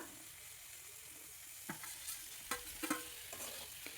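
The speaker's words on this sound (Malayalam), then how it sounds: "ഇനി ഇതിലേക്ക് ആ വഴറ്റി വെച്ചിരിക്കുന്ന വെണ്ടയ്ക്ക ചേർത്ത് കൊടുക്കാം." Sautéed okra goes into a sizzling tomato curry and is stirred, a steady frying hiss broken by a few sharp scrapes and knocks of the spoon against the pan.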